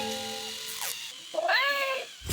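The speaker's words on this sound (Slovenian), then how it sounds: "Ta robotska mucka je nekako čudna." A robot cat toy gives electronic meows: a steady synthetic tone, then a rising, bending meow call. The sounds are close and clear, with no talking.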